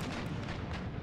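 Ship cannons firing during a naval battle in Empire: Total War, a dense, continuous rumble of overlapping booms with no gaps, as if many guns fire at once nearby, with no speech.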